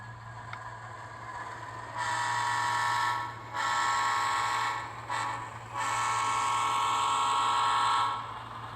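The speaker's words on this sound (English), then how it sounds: "So now our train is approaching the expansion layout." A model train runs on a home railroad layout, its whistle or horn sounding in several long blasts over a low steady motor hum, fairly close and with no talking.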